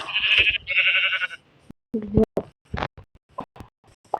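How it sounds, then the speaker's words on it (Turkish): Two sheep bleats in a row from a video game, then a voice talking in short bursts, with a few light knocks and clicks. "Koyuncuk."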